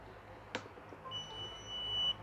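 The buzzer on a multifunction shield gives a faint click, then sounds a thin, steady tone for about a second before going quiet, set against low background hiss.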